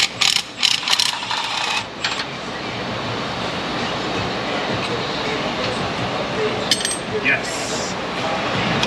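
A ratchet wrench clicks steadily while loosening rusted exhaust bolts, a dense run of close, fast clicks that continues almost without a break.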